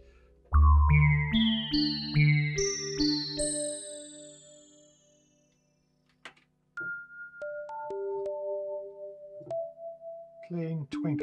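Casio CZ-1 phase distortion synthesizer playing clean, bell-like plucked notes in a rising sequence that ring and decay, then a pause and a second run of sparse, sustained twinkly tones, loud and close.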